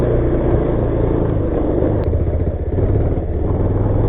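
A motorcycle engine running on a rough road, a loud, steady close-up rumble with clattering jolts, no talk.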